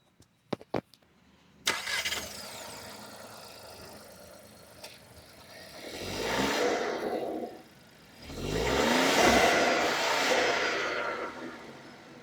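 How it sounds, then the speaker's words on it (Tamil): A Skoda Kylaq's 3-cylinder engine cranks and catches after a few clicks, settles to idle, then is revved twice in long rising-and-falling surges, close and fairly loud. "நான் என்ஜினை ஸ்டார்ட் பண்ணி காமிக்கிறேன், என்ஜினோட ரேவ் நோட் எப்படி இருக்குன்னு கேளுங்க"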